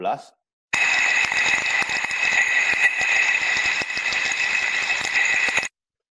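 A steady, loud mechanical whine with a rattling, grinding texture runs continuously after a brief opening sound, a machine bearing spinning at constant speed, recorded by ultrasound as a 2015 baseline.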